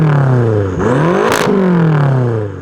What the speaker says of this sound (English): You listening to this exhaust though?